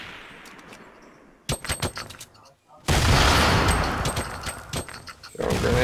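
Gunfire in the Fortnite video game: bursts of sharp, rapid shots at close range, a short lull, then a sustained loud volley of repeated impacts with more shots near the end.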